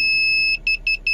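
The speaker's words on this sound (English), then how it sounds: "And as you get closer and closer, the beep get louder and louder." Ezetek car parking sensor sounding its warning about a foot from a garage door: a loud, continuous high beep, then three short, evenly spaced bursts of the same tone, with no talking.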